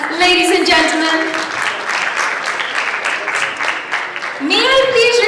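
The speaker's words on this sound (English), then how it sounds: "Please welcome them with applauding hands, ladies and gentlemen." An audience applauds as partners are welcomed onto the stage at a youth awards event, sustained clapping from a large hall with a voice speaking over the start and again near the end.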